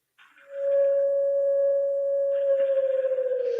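Israel's national emergency alert siren rises in loudly and holds one sustained pitch with a faint higher overtone, wavering slightly toward the end, with no voices.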